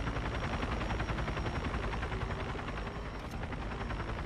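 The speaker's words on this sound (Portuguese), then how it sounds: "Tem um helicóptero atrás de mim, voando aqui perto." A helicopter in the racing game The Crew flies close behind, giving a loud, steady rotor and engine roar that fills the whole stretch with a dense, unbroken drone.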